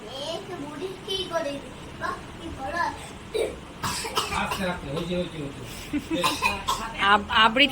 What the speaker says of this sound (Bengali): বলতে গিয়ে না কাশি উঠে যাচ্ছে